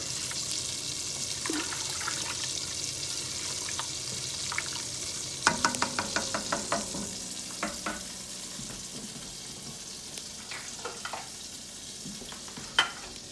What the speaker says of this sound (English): I'm going to take a spoon, get it all mixed together